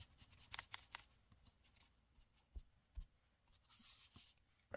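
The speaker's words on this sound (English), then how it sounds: "I'm just going to take my inker and just kind of rub it against there" An inker rubbed against a paper envelope, soft close scratchy brushing strokes in short bursts, faint and intermittent, with no talking.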